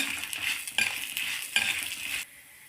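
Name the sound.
dried red chillies and peanuts roasting in a pan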